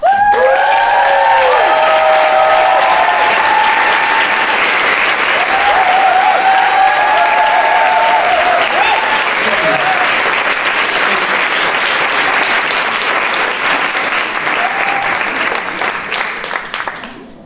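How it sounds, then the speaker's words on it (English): Enthusiastic crowd applause for a comedy performer at a comedy show, loud dense clapping with some cheering, tonal voices and whoops early on, holding steady for many seconds before tapering off at the end. "A big applause for Jules!"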